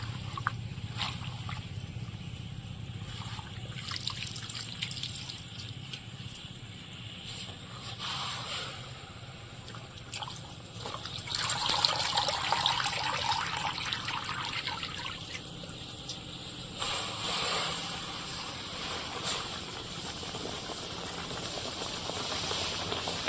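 Pumpkin leaves being washed under running water: a steady hissing stream with shifting splashes and trickles as the leaves are handled, close and continuous, with no speech.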